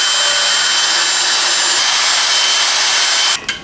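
A power drill runs steadily to bore holes for hooks at home, a loud continuous whir that holds for several seconds before cutting off abruptly near the end.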